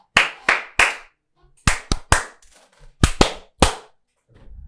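Single sharp hand claps for a podcast intro, played alone in short separated bursts: three quick claps, then two more pairs and a final one, loud and close with near silence between them.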